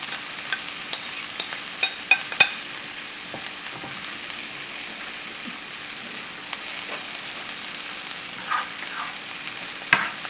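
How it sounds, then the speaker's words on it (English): Fresh spinach stirred into a creamed spinach mixture in a hot pan, giving a steady soft sizzle with scattered light scraping and clicking of the spoon throughout. "So I have my cream spinach mixture right here. I'm going to add in the spinach."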